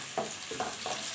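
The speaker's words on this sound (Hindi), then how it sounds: "अच्छी तरह से जो है हम इसको लहसुन अदरक को भूनेंगे" Garlic and ginger frying in a pan with golden-brown onions, a steady close sizzle broken by a few soft stirring scrapes at regular intervals.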